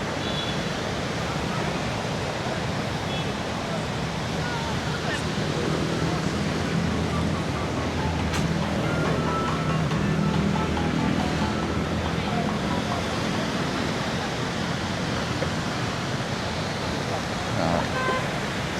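Ocean surf rolls continuously onto a beach at Da Nang, a broad, steady wash of breaking waves mixed with wind buffeting the microphone, with no clear gaps between breakers.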